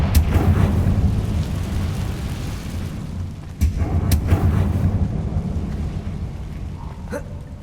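Deep rumbling blasts from the Confringo blasting curse in Hogwarts Legacy, a sustained boom followed by a second sharp explosion and rolling rumble, loud with no talk over it.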